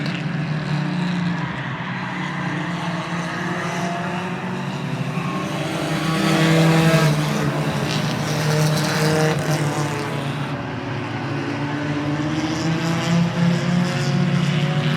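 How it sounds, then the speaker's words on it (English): Race cars running laps at Oyster Bed Speedway, with a loud sustained roar of several engines that swells and fades as the pack passes, heard at a distance with no talk over it. "Off and running, racing here."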